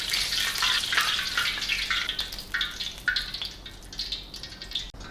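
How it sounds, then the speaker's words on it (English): Chicken pieces deep frying in hot oil give a bright, crackling sizzle that stays close and fairly loud throughout, with small pops scattered through it. "By then the sizzling also will come down, so you'll know that it's time to remove them from the hot oil."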